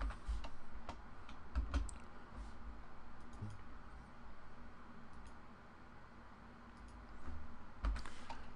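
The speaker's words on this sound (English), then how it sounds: "Type 4 and hit enter." Faint keyboard typing while working in SketchUp, a few soft scattered key taps and clicks over a low steady hiss.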